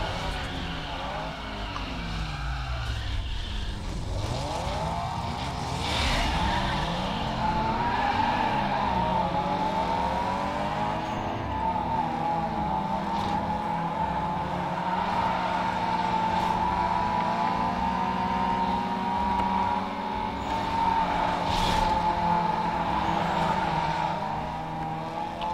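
A car drifting in Need for Speed Underground 2, its tires skidding and squealing almost without a break under a steady engine roar that rises and falls, loud and close throughout.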